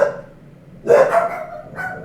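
A pet dog barks at close range, with one loud bark, a short follow-up and a later single yap, standing alone against a quiet background.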